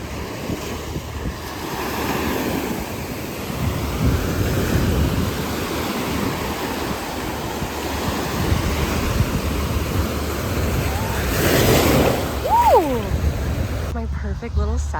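Ocean surf washes steadily onto a beach with strong wind buffeting the microphone, a continuous broad rush that swells and eases, close and loud throughout, with a voice heard briefly over it.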